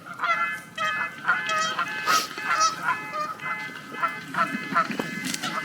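Several geese honk loudly in a territorial squabble at a campsite, with repeated overlapping harsh calls in bursts and a low murmur of people beneath.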